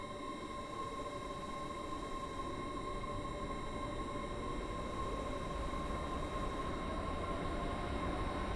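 A train in the Roblox game Stepford County Railway runs toward Llyn-by-the-Sea, giving a steady, continuous rumble with a sustained electric whine throughout, loud and unbroken.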